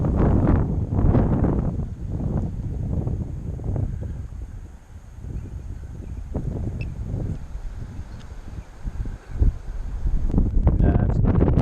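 Strong gusty wind batters an outdoor microphone during a drone flight, a loud, continuous roaring buffet that surges and eases throughout, with no speech heard.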